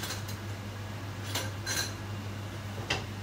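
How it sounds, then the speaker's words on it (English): Knife cutting through a sushi cake on a plate, a few light scraping clinks of the blade against the dish spaced apart over a steady background hum. "you just cut it down with a knife"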